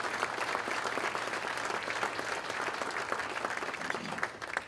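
Audience applause at a policy group's luncheon, a dense, sustained clapping from a roomful of people that holds steady throughout, thinning slightly at the end.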